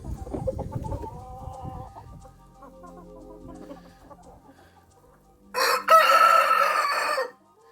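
A rooster crows loudly up close after a stretch of soft clucking and low farmyard murmur from hens.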